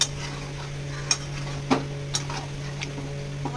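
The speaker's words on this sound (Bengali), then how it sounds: "চিকেনটা দিয়ে মশলাটাকে ভালো করে কষিয়ে নিতে হবে।" Chicken and spice masala stir-fried in a pan for a chicken curry, with a steady low hum beneath soft sizzling and occasional light clinks and scrapes of a utensil against the pan.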